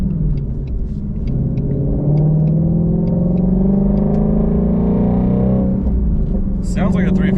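A 2020 Ford Mustang Shelby GT350R engine drones loud and close while driving, holding a steady rumbling note that swells and rises in pitch before easing off, with a brief burst of higher noise near the end.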